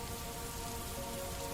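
Steady rain falls on a forest floor, a continuous soft hiss of drops with no pauses, alone and fairly quiet throughout.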